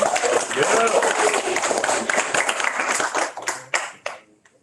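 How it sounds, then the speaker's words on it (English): Crowd applause at a teen open mic night greets a poet taking the stage, a dense, loud wash of many hands clapping with some cheering, tapering off near the end as a voice begins. "everyone give a round of applause for Dana"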